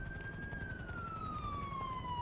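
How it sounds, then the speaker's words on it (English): A distant police car siren in a video game wails steadily and gradually falls in pitch over a constant low rumble, with no voices. "I heard sirens. I thought it was because of you"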